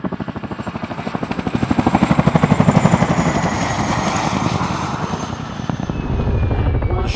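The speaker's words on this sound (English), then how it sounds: "Watching such a large helicopter perform so nimbly makes a huge impression on the large crowd." Chinook twin-rotor helicopter flying a display at an air show, its heavy rapid rotor thump and turbine roar loud and close throughout, swelling and easing slightly as it manoeuvres.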